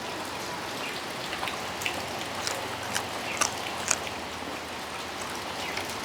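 Heavy rain pours down steadily on a rainy evening in the Thai countryside, a dense continuous hiss with scattered sharp drops spattering nearby, with no voices.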